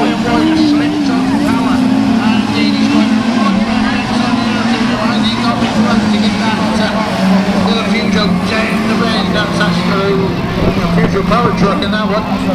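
Peugeot 106 autograss racing car driven hard around a dirt track at a national meeting, its engine droning loudly and steadily with a rising and falling whine, mixed with other racing cars, while a commentator talks over it throughout.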